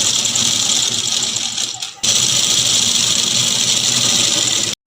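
A sewing machine stitches the shoulder seam of a short kurti, a loud, close, steady mechanical whir that breaks briefly near the middle, resumes, and stops abruptly at the end.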